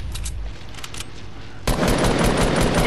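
Video game gunfire: scattered shots, then a sudden dense burst of rapid automatic fire that continues loud to the end, with no talk.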